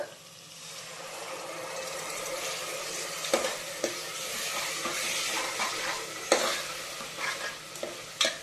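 Masala fries in oil in a pan for mushroom biryani, giving a steady sizzle broken by scraping and stirring strokes, fairly close and with no talking.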